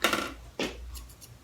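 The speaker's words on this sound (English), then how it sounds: "We will just cut in this area right there." Scissors point-cut mid-length hair at home: two crisp snips about half a second apart, close and fairly quiet, with no talking.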